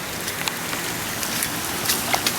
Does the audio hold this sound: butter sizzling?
no